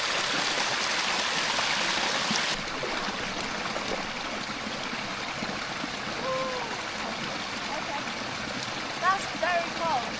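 A person wading into cold water in an outdoor stream, with rushing water loud and broadband for the first few seconds, then settling into a steadier, quieter flow with a few chirps near the end.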